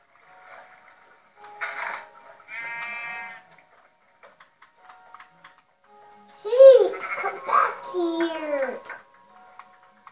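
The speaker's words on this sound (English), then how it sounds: "Sheep, get back here." Sheep in the Minecraft video game give short bleats alongside game ticks and clicks, with a voice nearby and quiet gaps between the sounds.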